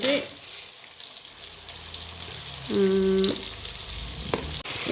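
Chopped onion drops into hot oil already holding cumin and mustard seeds for a fish curry, bursting into a loud sizzle midway that settles into steady frying crackle, with a stir of the pan near the end.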